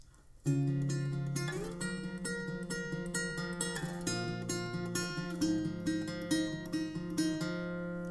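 An acoustic guitar plays a short chord passage from a song verse with steady strummed and picked notes, clear and close, no voices.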